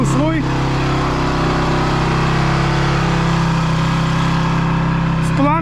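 An enduro motorcycle engine idles steadily in a garage on a winter day, a continuous close rumble running unbroken throughout, with brief voice sounds at the start and end.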